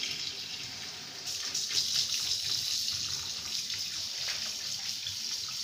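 Water pours steadily into a basin while cleaning a black powder gun, a continuous splashing gush that runs nearby without pause and with no voices.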